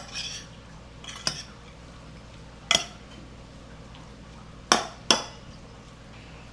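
Crab stuffing gets mixed with a little breadcrumb in a bowl, a quiet stirring with several sharp utensil clinks against the bowl at irregular intervals.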